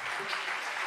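Audience applause at an acoustic concert in a small bar venue, a steady wash of clapping close by and moderately loud, filling the moment without pause.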